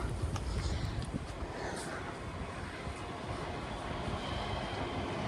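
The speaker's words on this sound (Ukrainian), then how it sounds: "по горі вон поїзд прийшов" A train rumbles in the distance on a mountainside, a steady low roar with wind-like hiss that neither rises nor fades, and faint voices are heard beneath it.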